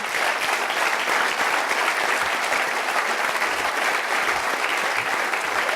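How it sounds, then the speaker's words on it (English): Steady, dense applause from a conference audience at a security event's closing remarks, honouring the winning team, sustained and even at full strength throughout without a break. "so you guys can all give them a round of applause"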